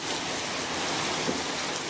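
Floodwater rushes through a city street in a sudden downpour, a dense, even roar of water that holds steady over the whole stretch.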